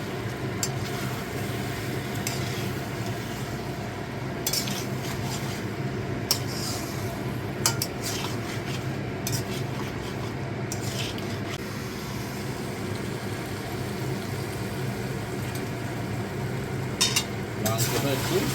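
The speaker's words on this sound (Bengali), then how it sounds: "মাংসটা একটু নেড়ে নেবো যাতে না বসে যায়" Meat frying in oil in a pan is stirred continuously, giving a steady sizzle and hiss with scattered utensil scrapes and clinks against the pan throughout.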